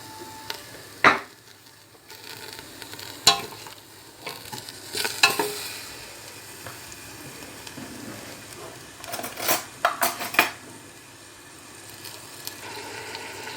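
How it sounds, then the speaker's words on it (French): Onion, garlic and meat frying in oil in a pot for Algerian mtaoem, a low background sizzle broken by scattered scraping and stirring clatters of a utensil against the pan, fairly close and without speech. "Et vous commencez à faire griller un petit peu votre viande."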